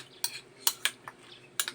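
A utensil stirring a mixture while making breakfast: five or six sharp metallic clinks of a spoon against a bowl or pot, spaced irregularly and heard close up in a quiet room.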